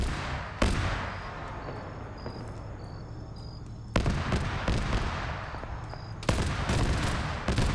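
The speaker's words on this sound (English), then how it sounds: "Or BMP shots coming in." Armored BMP vehicle gunfire in a military shooter video game crackles as a heavy, continuous fusillade of shots, with sudden sharp bursts marking new volleys, loud and close, with faint electronic beeps behind.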